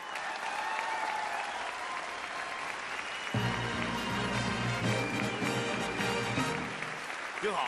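Studio audience at a Chinese comedy competition show bursts into sustained, dense applause, with a deeper swell of clapping and cheering joining midway before easing toward the end.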